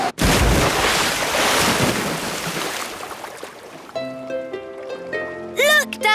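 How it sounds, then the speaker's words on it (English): A cartoon aircraft makes a big splash as it lands on open water, a loud broad rush of spray and surf that fades over a few seconds before bright musical tones and chimes take over. "Prepare for a big splash."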